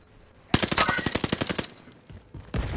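A burst of rapid gunfire in a shooter video game, a dozen or so evenly spaced shots fired at an enemy, loud and close, followed by a pause and a single louder shot near the end.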